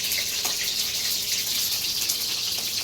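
Water for pani puri pours in a continuous, even gush, close and moderately loud, with a steady hissing splash and no talk.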